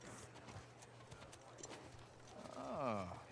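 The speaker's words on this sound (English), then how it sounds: "She's got her new horse Shimmer here." A horse in The Last of Us Part II video game, with soft hoof clip-clops under faint background sound, then a clear rising-and-falling whinny near the end.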